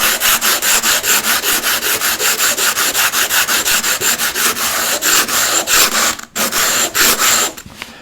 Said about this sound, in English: take your stone and you start rubbing it on the sandpaper